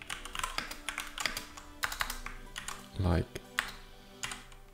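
Rapid, uneven keystrokes clatter on a computer keyboard during programming work, loud and close, with a person talking briefly over the typing.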